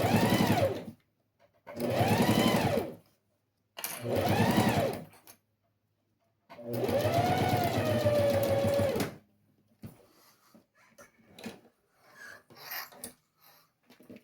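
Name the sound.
sewing machine stitching fabric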